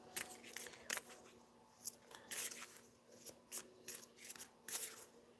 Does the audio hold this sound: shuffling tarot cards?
yes